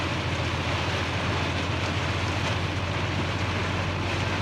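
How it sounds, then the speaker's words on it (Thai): Rain falling steadily during a car journey in southern Thailand, a constant dense hiss over the low rumble of the moving vehicle, with no voices. "ฝนตกไปเรื่อยๆนะครับผม"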